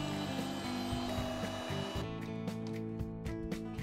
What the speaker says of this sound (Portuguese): eu vou agora bater as claras na batedeira até o ponto de neve